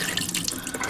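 Soaking water is poured off beans for Cajun red beans and rice, a steady close splashing stream of liquid lasting about a second.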